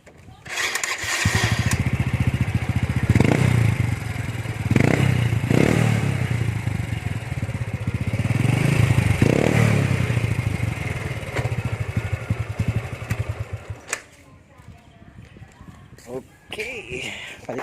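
Motorcycle engine fitted with an Apido organ pipe exhaust, revving loudly in several rising bursts over a steady idle for about fourteen seconds before cutting off, with a quieter stretch after.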